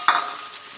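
Scallion pieces hit a hot wok with ginger for a ginger-scallion crab stir-fry, giving a quick spatula clatter followed by a soft, steady sizzle.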